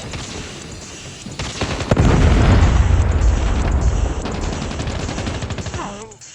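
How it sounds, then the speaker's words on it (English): Predator missile strike in the Call of Duty Mobile video game, a sudden loud boom followed by a long rumbling blast mixed with rapid crackling gunfire that slowly fades. "Friendly Predator missile inbound."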